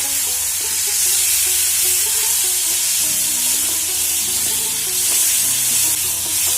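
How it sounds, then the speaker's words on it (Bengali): Potatoes fry in hot oil with chopped tomato and a little ginger, giving a steady, dense sizzle with scraping stir sounds throughout. "আলুগুলো ভালো করে ভেজে নেব"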